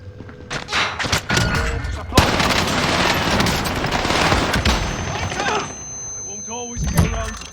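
Heavy gunfire in a Call of Duty: Warzone match, with bursts of shots, sharp cracks and thumping impacts over several seconds while players talk over the action.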